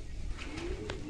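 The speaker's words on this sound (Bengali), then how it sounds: "তো বন্ধুরা, এই হচ্ছে মেল পায়রাটি।" A male pigeon in a loft gives a short, soft coo, a single low rolling note heard close by over faint background hiss.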